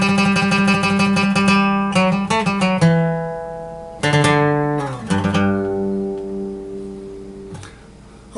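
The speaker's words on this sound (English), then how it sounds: "So let's go over the Spanish parts. The first lick should sound like this." Acoustic guitar plays a Spanish-style lick, quick plucked runs followed by ringing held notes and a few strummed chords, close and clear with no voices.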